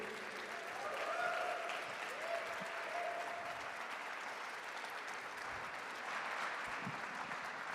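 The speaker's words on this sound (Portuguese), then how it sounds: "Aplauda o Bob, porque" Audience applause at a church conference for a man named Bob, a faint, dense, continuous wash of many hands clapping from a distance, with a few brief voices rising faintly through it.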